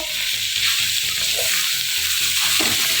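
Half a kilo of beef mince frying in a pan, a steady, loud, close sizzle with crackling that runs unbroken throughout and no voices.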